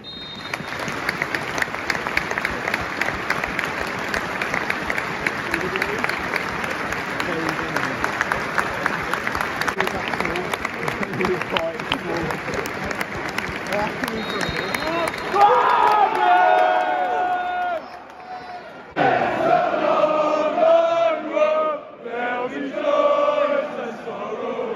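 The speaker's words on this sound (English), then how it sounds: "The minute's applause will end on the referee's whistle." A football stadium crowd claps steadily through a minute's applause at a Blackburn Rovers versus Birmingham City match, a dense, continuous roar that thins into scattered clapping and shouts near the end.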